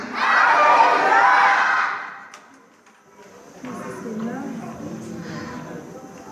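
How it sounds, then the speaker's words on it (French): A church congregation at a French-speaking worship service shouts hallelujah together in a loud, sustained roar of voices lasting about two seconds, followed by quieter crowd murmur and a preacher's voice. "On crie alléluia."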